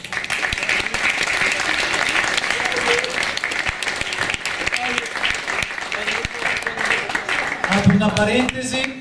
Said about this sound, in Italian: A coloro va un enorme applauso.